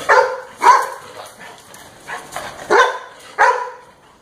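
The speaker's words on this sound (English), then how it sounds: "It's a dog." A dog barks five times close by, in short irregular yaps separated by brief pauses.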